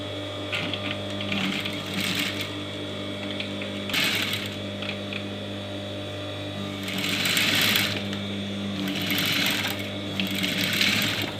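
A sewing machine runs in several bursts while stitching a half-inch seam on a long kurti, its fast rattling whir rising and pausing between stretches over a steady mains hum.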